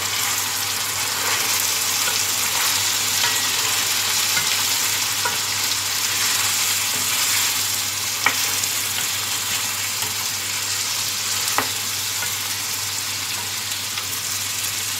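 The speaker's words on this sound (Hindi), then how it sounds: "अब इसमें टमाटर डाल दूंगी और इसे अच्छी तरह से भून लूँगी" Tomatoes sizzle steadily with garlic and ginger in a karahi, a constant broadband frying hiss with occasional soft clicks of stirring, close and even throughout.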